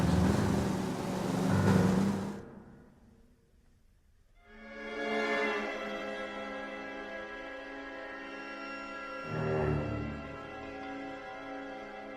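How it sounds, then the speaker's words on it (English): In the L.A. Noire video game, a car pulls out of a driveway: an engine starts and revs up into a steady tonal hum, then surges once more before settling. "That's the car, Cole. Just pulling out of the drive."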